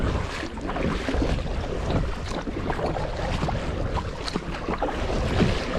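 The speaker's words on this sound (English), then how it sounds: "These waves should settle down soon." Water slaps and splashes steadily against the hull of a Vibe Yellowfin 100 kayak on choppy water, with gusting wind buffeting the microphone throughout.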